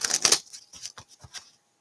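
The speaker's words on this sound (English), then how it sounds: "Last shuffle." Cards riffled and bridged in a tarot-style reading, a few quick papery bursts close by and fairly quiet, then brief softer flutters trailing off into silence.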